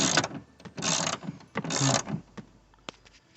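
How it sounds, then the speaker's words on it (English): A 10 mm socket wrench ratchets while loosening nuts on the rear window regulator of a 2002–2006 Cadillac Escalade, giving a few quick close clicking bursts that fade into lighter taps. "to remove those two nuts, we use a 10 millimeter socket wrench"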